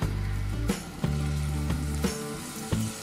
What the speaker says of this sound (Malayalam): നമുക്കിതിലേക്ക് നമ്മുടെ പ്രോൺസ് പറക്കിയിട്ട് വറുത്തെടുക്കാം.